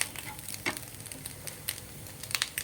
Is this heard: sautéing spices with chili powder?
yes